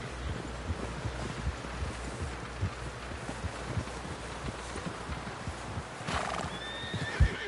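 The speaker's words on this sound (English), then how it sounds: "Someone help John down off this horse." A horse in the video game Red Dead Redemption 2 clip-clops steadily over wind noise, then gives a short neigh near the end.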